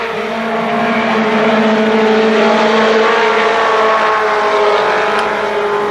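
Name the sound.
race cars racing at Kil Kare Speedway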